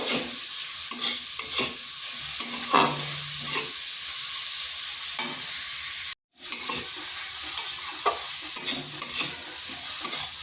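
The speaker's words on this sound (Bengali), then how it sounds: "গাজরটাকে একটু ভেজে নেব।" Grated carrot frying in a pan, with a continuous sizzle and repeated rhythmic scraping stirs, broken by a brief dropout midway.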